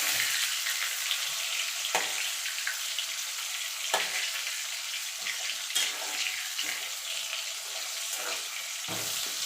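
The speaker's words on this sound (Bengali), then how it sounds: "এবার আলুটাকে আমি লাল লাল করে ভেজে তুলে নেবো" Potatoes seasoned with salt and turmeric fry in hot oil for a Bengali mutton and potato curry, a steady close crackling sizzle with brief louder pops and stirring scrapes throughout.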